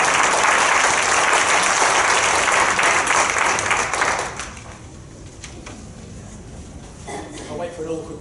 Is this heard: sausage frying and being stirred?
no